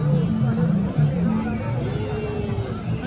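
Busy crowd chatter at the riverside ghat in Maheshwar, a dense babble of many nearby voices blending into a continuous hubbub with no single speaker standing out.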